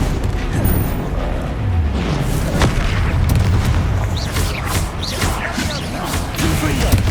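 Repeated Confringo blasting-spell explosions boom through a Hogwarts Legacy fight, with heavy low rumbling and several sharp cracks and crashes overlapping across the span alongside other spell effects.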